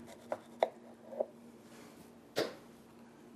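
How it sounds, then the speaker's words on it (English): A knife cuts through watermelon rind in a quiet setting, giving several soft, sharp clicks and taps at uneven intervals, then one firmer crunching cut. "if we do it by slicing it all the way around like that"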